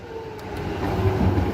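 A Melbourne Metro train at a station on the Metro Tunnel opening day, a steady low rumble that grows louder over a second and a half, with no voices.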